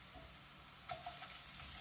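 A teaspoon of ginger garlic paste fries in a pan with onions, making a faint, steady sizzle with a couple of soft stirring scrapes near the middle.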